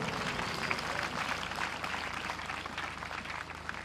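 Congregation at a Foursquare church revival service in Burundi claps in a dense, steady wave of applause, with crowd voices mixed in, holding loud and even for the whole stretch.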